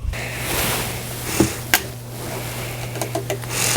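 A small electric pump draws fuel into an oil heater inside a tent at a snowy campsite, a low steady motor hum broken by a few sharp clicks and knocks close by.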